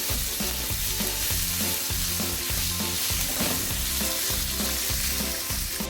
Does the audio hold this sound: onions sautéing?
yes